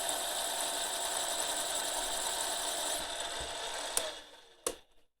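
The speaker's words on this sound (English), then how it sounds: "the only problem with drilling stainless steel, and that's what I'm kind of attempting right now" A drill bores into stainless steel lubricated with oil, a steady whirring grind with mechanical whine that cuts off near the end, followed by a couple of sharp clicks and clatter.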